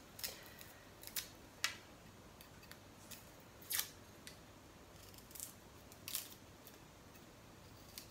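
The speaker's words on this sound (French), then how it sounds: "nous allons éplucher la gousse d'ail." Garlic clove being peeled by hand in a home kitchen: a string of faint, sharp papery crackles and snaps at irregular intervals, close up against a quiet background with no talking.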